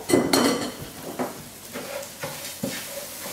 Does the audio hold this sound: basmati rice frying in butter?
yes